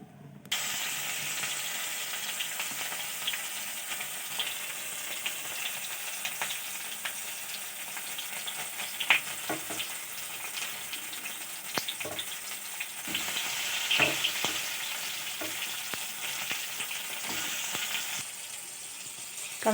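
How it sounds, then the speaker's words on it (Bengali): Chopped tomatoes frying in hot oil give a steady, close sizzle with occasional crackles and light stirring scrapes, continuous throughout with no talking. "টমেটো কুচিয়ে নিয়েছি, তেলে দিয়ে দেব।"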